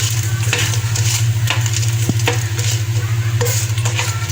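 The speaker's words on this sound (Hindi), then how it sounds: "थोड़ा सा इनमें खुशबू के लिए भूनेंगे हम लोग" Whole spices, including cumin, black pepper, round red chillies, ginger and garlic, roast in a pan for shami kabab, giving a steady close sizzle with repeated stirring scrapes and light clinks.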